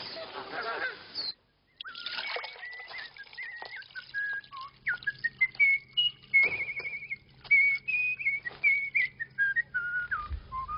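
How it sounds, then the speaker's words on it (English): A person whistles a tune in short, clear melodic phrases, following a brief stretch of rustling and murmuring, fairly close and alone with a faint low hum beneath. "That's a nice whistle."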